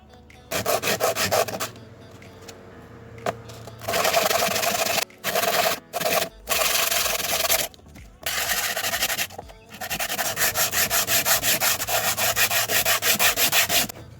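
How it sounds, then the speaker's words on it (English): Sandpaper rubbing back and forth on a small piece of pine in rhythmic strokes, close and scratchy, with short pauses between bursts. "Now I'm just going to go through the sandpaper and sand it."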